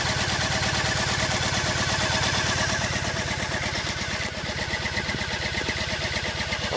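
A Triumph Bonneville motorcycle engine running at a fast idle after starting, a loud close, steady rapid pulsing beat that settles slightly lower partway through.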